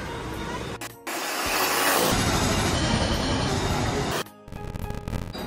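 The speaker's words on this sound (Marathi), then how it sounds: "आता ट्रेनमध्ये आम्ही बसलोय" Loud, continuous rumbling and clattering noise from inside a moving Mumbai local train near Ulhasnagar, with abrupt cuts in the sound.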